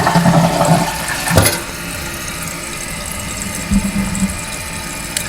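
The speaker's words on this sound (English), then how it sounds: "So after you guys flush it" A toilet flushing with an automatic bowl cleaner tablet inside, a loud rushing gurgle at first that drops to a quieter steady trickle and refill with a few mechanical clunks.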